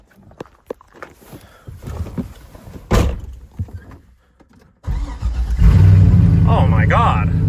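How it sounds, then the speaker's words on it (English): Clicks and a thunk, then a Corvette engine with a partly fitted exhaust cranks and catches, settling into a loud rumbling idle; a voice speaks briefly over it. "So let's fire it up and see how it sounds now."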